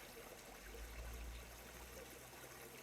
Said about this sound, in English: I love listening to the sound of the water.